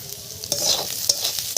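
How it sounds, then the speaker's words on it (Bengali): Egg being stirred with Maggi noodles in a pan over low heat, a soft continuous sizzle broken by a few sharp scraping strokes of the utensil, close up with no talking. "দিয়ে এবার ডিমটাকে আমি আবার এর সঙ্গে আবার একটু নাড়াচাড়া করে নেব"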